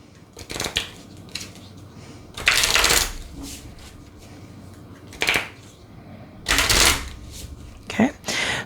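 Oracle cards being shuffled in several brisk bursts, with quiet pauses between them, close by and fairly loud.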